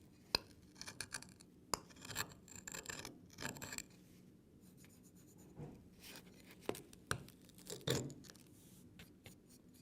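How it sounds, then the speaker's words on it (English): A mineral sample scratches across a glass plate during a hardness test: short, faint, close gritty scrapes in irregular bursts, quiet with no talk. "The sample is leaving a distinctive scratch on the glass."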